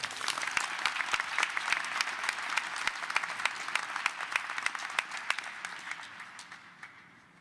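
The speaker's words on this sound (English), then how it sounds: "Let's give him a round of applause." An audience at a press announcement about the 2024 NFL Draft in Detroit breaks into steady applause, a dense patter of many hands that fades toward the end, with no voices over it.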